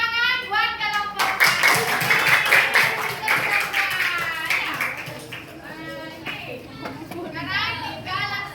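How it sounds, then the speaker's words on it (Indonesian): Children clap together in a burst of applause amid lively chatter and excited young voices close by. "Tepuk tangan buat kelompok."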